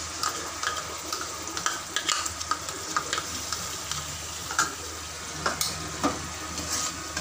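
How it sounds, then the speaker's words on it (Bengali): Sauce stirred into boiled ingredients in a frying pan: a spoon scrapes and clicks in quick irregular strokes over a steady background sizzle, close up with no voices. "সসটা দিয়ে ভালো করে নাড়ব।"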